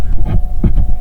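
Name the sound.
cars driving by outside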